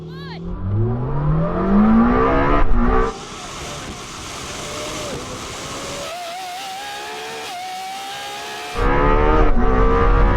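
A Lamborghini Temerario and a Revuelto launch side by side in a drag race from a 10 mph rolling start, their engines howling up through rising gear sweeps. The roar drops to a distant, thinner whine midway, then swells loud again near the end.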